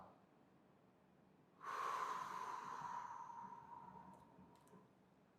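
A single long, deep inhalation drawn slowly through the nose, close and fairly faint against a quiet background, as part of a paced breathing exercise for calming nerves.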